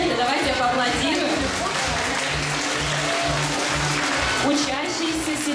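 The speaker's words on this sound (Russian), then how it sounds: "Аплодисменты, давайте поаплодируем." An audience at a school award ceremony claps in a sustained round of applause that fills the room while a voice speaks over it.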